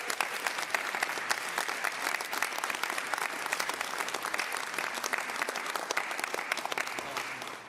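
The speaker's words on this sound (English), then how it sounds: "let's give him a round of applause" An audience gives Governor Newsom a round of applause at a California event, with a steady, dense clapping that goes on for several seconds at moderate volume.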